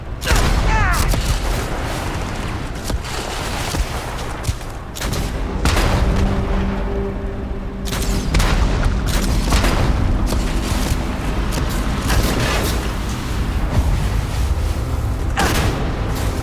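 Gunfire and explosions from combat in the video game Starfield roar almost without a break, with dense bursts of shots and heavy booms throughout, loud and close, and voices sometimes heard beneath the battle.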